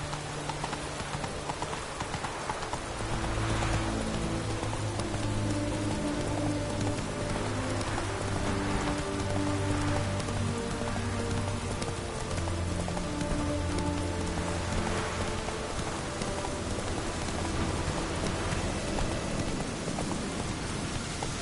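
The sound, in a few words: rain in a video game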